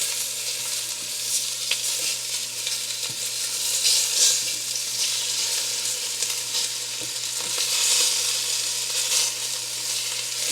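Oxtail pieces searing in a pan over medium-high heat, giving a loud, continuous close sizzle with occasional small pops and a faint hum beneath.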